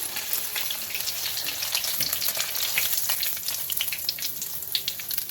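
Potato bread rolls fry in hot oil with a steady, busy sizzle full of fine crackling pops, close and continuous throughout.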